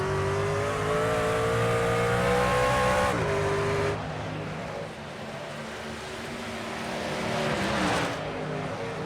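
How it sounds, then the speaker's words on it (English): Racing trucks of the Midwest Motorsports series at speed on the Road America circuit, engines droning loud and steady with a shifting pitch as a truck drops off around three seconds and another swells past near the end. "Ty Williams holding off Dustin Reinstedel, but you got racing in the front."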